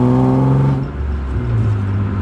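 A BMW E36 M3 engine drones loud and steady from inside the cabin while driving with the rear seats removed, its deep harmonic hum dipping briefly and then holding on.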